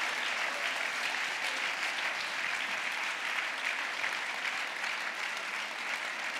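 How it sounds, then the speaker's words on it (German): Steady, dense applause from a large audience at an award ceremony for business communication, sustained and even for several seconds with no speech over it. "Ihr Applaus nochmal"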